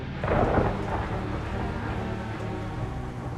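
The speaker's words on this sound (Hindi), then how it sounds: "ये बारिश कब रुकेगी?" Rain and thunder as a horror-story sound effect: a low rolling thunder rumble swells early, then fades into a steady heavy downpour hissing evenly throughout.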